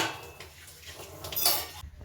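Dishes, pots and utensils being washed at home, with soft clinks and scraping of metal and ceramic, running through the whole clip at low level, no talking.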